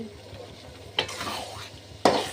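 Potatoes frying in a pan and being stirred, a soft background sizzle with two sharp scraping sweeps of the spatula about a second apart, close by.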